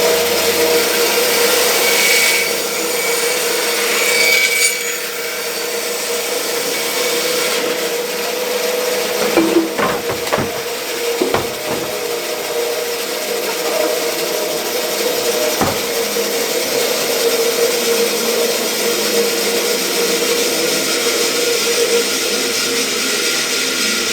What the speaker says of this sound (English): while I'm standing at the bandsaw, is I'm going to cut it in half